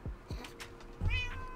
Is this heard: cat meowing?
yes